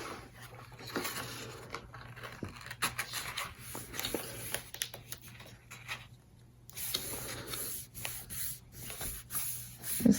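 Paper in a handmade mini album is burnished by hand with repeated, fairly faint rubbing strokes that scrape back and forth in uneven bursts.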